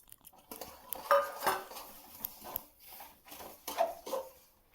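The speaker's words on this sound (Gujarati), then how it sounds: "હવે આપણે આ તલ શેકેલા છે એમાં જવા દેશું અને એને સારી રીતે મિક્સ કરી દેશું." Roasted sesame seeds being stirred into hot jaggery in a pan for sesame-jaggery chikki, giving scraping, clinking utensil strokes against the pan in uneven bursts, close and fairly quiet.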